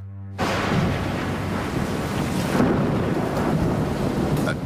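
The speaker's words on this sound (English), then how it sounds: "Catastrophic storm with 120 mile an hour winds blasts across the area without warning." A 1938 New England hurricane with 120 mph winds: a sudden loud onset of roaring wind, rain and rumbling thunder that holds as a dense, continuous storm wash.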